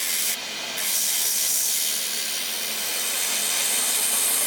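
A silicon carbide wheel grinds agate stone with a continuous close, gritty hiss, a brief sharper scrape near the start, then steady rubbing to the end.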